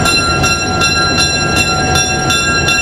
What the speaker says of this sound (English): The gray switcher is an SW1 built by General Motors.